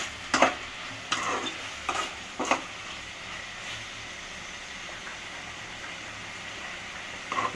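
Tomatoes sauté in a pan under a low, steady sizzle, broken by a few quick stirring scrapes near the start and again at the end.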